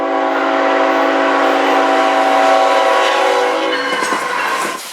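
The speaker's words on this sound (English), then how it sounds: "we're seeing a train exclusively being led by BNSF Power" A Norfolk Southern freight train led by BNSF locomotives rolls past close by, a loud steady rumble of engines and rail noise with droning tonal hum throughout, easing off slightly near the end.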